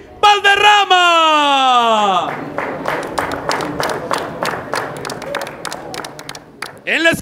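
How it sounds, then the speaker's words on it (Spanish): A crowd at a fight event claps and cheers for a fighter being introduced, with an announcer's drawn-out voice at the start and lively, uneven clapping and shouts following. "Un fuerte aplauso"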